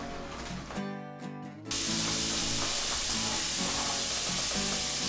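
Bacon sizzling and crackling in a hot pan, a steady loud frying hiss that swells after a brief quieter moment and then continues evenly, with no talking.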